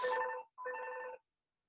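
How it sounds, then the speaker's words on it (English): A home telephone rings in two electronic bursts separated by a brief gap, then falls silent. "home phone's ringing"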